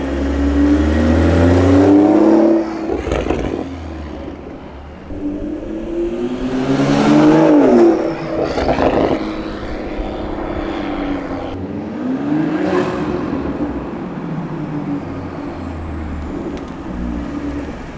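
A powerful turbocharged BMW M340i engine revs hard several times, swelling to loud roaring peaks and easing off between them, close by, with no talking.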